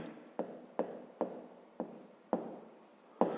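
Pen or pencil writing on paper for a fifth-grade maths exercise, quiet close scratching strokes in short separate bursts, about six in a few seconds, with no voice.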